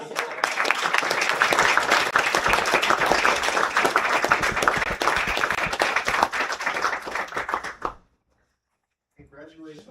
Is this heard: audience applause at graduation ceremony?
yes